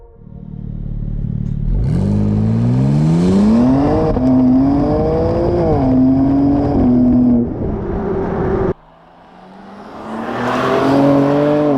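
A BMW M2 (G87) sports car engine revs up through the gears while driving, pitch climbing and dropping with each shift, loud and close, with no talking.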